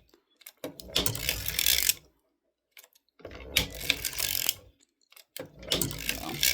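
A sock knitting machine working a sock gives three bursts of clattering, ratcheting mechanical noise, each about a second or two long, separated by brief quiet gaps, close and moderately loud.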